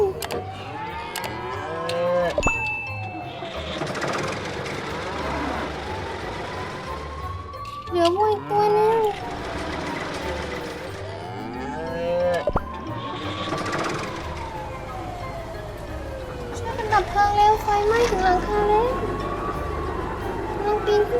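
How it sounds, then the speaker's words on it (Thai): Cartoon cows moo repeatedly in a toy fire truck scene, long wavering calls rising and falling across the clip alongside a siren-like wail and cartoon sound effects, fairly loud and continuous. "รถขนวัวมาแล้ว เจ้าวัวติดอยู่ในบ้าน"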